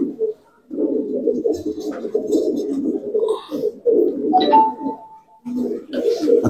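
Pigeons, including a Fulsia cock being paired with a hen, coo close by in low throaty rolling phrases with brief gaps, fairly loud, with a faint whistle-like tone partway through.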